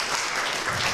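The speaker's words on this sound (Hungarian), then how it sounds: "Tapsot akkor Szénási Jonatán Sándornak" A brief burst of audience applause, many hands clapping together in a dense, steady patter for about a second.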